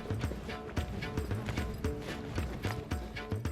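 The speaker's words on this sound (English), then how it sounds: "My horse was even more nervous than before, since I took him away from his herd." Horse hooves clip-clop in a steady, close rhythm as a nervous horse is led on a solo trek in Mongolia, the beats clear and evenly spaced with no talking.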